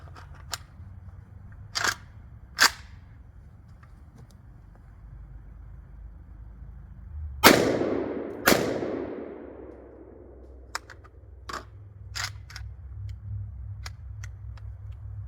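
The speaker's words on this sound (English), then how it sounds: "getting ready to do our first shots on this Riley Defense Krink, and I am just shooting Winchester target practice 123 grain full metal jacket" Two sharp, loud gunshots about a second apart from a Riley Defense Krink rifle firing Winchester 123 grain full metal jacket target rounds outdoors, each followed by a short decaying echo, with scattered clicks and faint ticks before and after.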